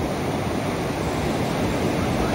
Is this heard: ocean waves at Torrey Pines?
yes